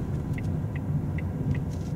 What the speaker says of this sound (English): drive the car up to that reference point